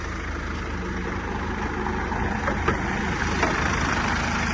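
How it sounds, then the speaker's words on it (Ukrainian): The 2-litre diesel engine of a 2010 BMW 320d with automatic transmission runs at idle, a steady low rumble with a faint regular clatter, fairly close and even throughout. "Під капотом у нас, нагадаю, 2-літровий дизельний двигун."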